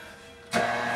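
Stand mixer fitted with a dough hook starting up on bread dough for hot pepper bread, a steady motor whir rising suddenly halfway through and holding at a constant close level.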